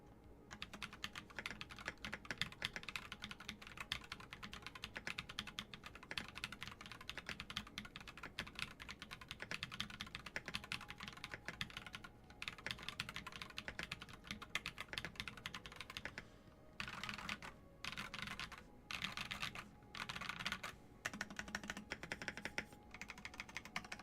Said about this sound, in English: So this has Glorious Pandas in it, and the Glorious Celestial Fire keycaps. And this is how this sounds.